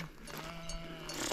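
A flock of sheep bleats briefly, a few faint overlapping calls carried over quiet outdoor background.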